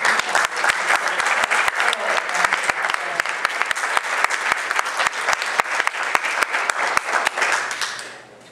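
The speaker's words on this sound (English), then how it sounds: "please give a big round of applause to our" Audience at a candidates forum applauding, a full steady round of clapping with crisp individual claps standing out, sustained for several seconds before tapering off at the end.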